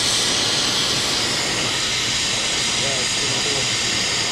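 Steady, loud roaring hiss of a glassblowing torch burning while a marble is being made, continuous and close, with a faint voice briefly audible beneath it.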